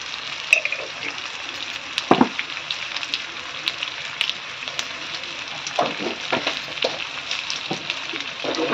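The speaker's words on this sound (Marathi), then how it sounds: "आणि आता हे परत एकदा चांगलं मिक्स करून घेऊया." Bitter gourd masala curry sizzles in a pan while being stirred, a continuous bright frying crackle with irregular spoon scrapes and taps throughout, close and fairly loud, with no talk.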